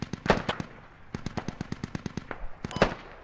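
Gunfire from the video game Squad crackles in irregular sharp bursts, a few louder close shots mixed with steady rapid reports that seem somewhat distant, with no talk.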